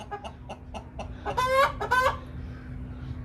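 A rooster clucks in quick repeated notes, then lets out a strained, raspy crow in two bursts, nearby over a low steady hum.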